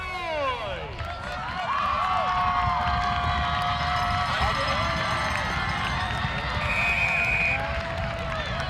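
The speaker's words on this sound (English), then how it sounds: "As they try and get the crowd to make some noise" A dense, steady roar from the stands at a high school football homecoming game between Penfield and Webster, with scattered whistles and shouts. It swells after the first second and holds loud and unbroken for the rest of the stretch.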